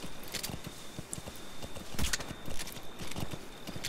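Horse hooves clip-clop in a steady walking rhythm in the video game Metal Gear Solid V: The Phantom Pain, a quiet series of regular thuds with a faint background hum and no voices.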